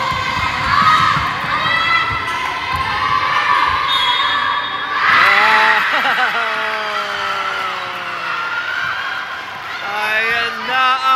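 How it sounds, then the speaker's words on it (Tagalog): The home team crowd at an elementary school basketball game cheers and shouts loudly, with children's voices rising and falling in waves and an announcer talking over the noise. "Ayan na ang crowd ng home team."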